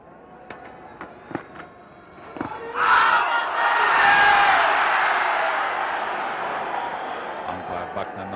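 A large cricket crowd at an India versus Pakistan Test match in 1999 erupts into loud, excited cheering and roaring that swells suddenly and sustains, following a few sharp knocks, with commentary voices underneath.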